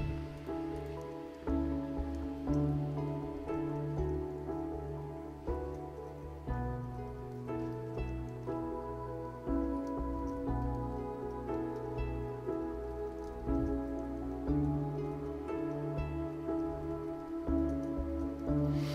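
Steady rain falls outside a bedroom, a constant soft patter heard from indoors and masked slightly by a low, continuous hum in the room.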